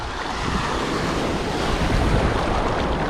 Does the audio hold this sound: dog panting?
no